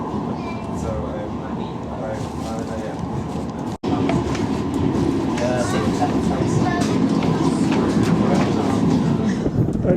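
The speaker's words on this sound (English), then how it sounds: "my train is coming almost immediately" A Manchester Metrolink light rail tram arrives at a platform, rumbling and clattering along the rails, a steady rolling noise with a brief dropout partway through and faint voices in the background.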